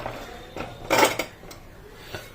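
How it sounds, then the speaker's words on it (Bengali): A clay handi pot for village-style handi chicken is set down on a gas stove, giving a few close knocks and clatters, the loudest in the middle, followed by quiet. "আমাদের হান্ডি চিকেনের হান্ডি ওভেনে বসিয়ে দেবো"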